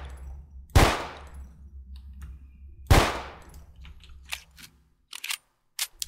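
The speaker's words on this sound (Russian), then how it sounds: "Но контрольные выстрелы я сделаю." Two loud, sharp gunshots from S.T.A.L.K.E.R.: Spatial Anomaly, spaced about two seconds apart, each with a ringing decay, followed by quieter metallic clicks and clatters.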